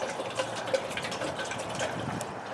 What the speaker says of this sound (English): Let's put in 1 pint of water.